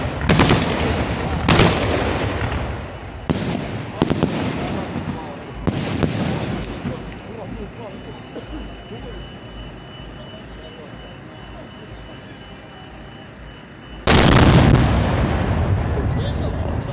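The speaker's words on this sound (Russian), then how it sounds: "Салют." Victory Day fireworks salute on 9 May over Shcherbakov park: several loud, booming bursts close together at first, then a lull with crowd chatter, then another heavy blast.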